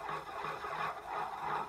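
A block of rosin is drawn across a hurdy-gurdy wheel in a few slow, close, raspy rubbing strokes, faint with no talking.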